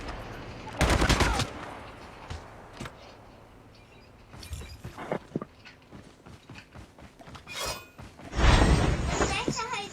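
Bursts of gunfire in a shooter video game aimed at a vehicle, with loud sharp volleys at the start and end and scattered shots between, while players talk over the action.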